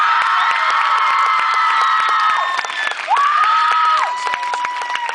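A crowd at Federation Square cheers and whoops loudly with scattered clapping throughout, voices rising and falling in excited shouts.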